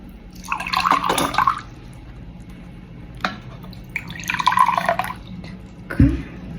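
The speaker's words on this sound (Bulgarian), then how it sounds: "Накисвам ги с вода." Water is poured over hot pepper seeds, including Carolina Reaper, to soak them, with two bursts of splashing and trickling separated by quieter pauses and a soft knock near the end.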